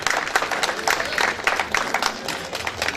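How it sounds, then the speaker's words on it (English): An audience at an awards ceremony breaks into sustained applause, dense overlapping clapping with crowd noise and a voice faintly under it. "A round of applause for her"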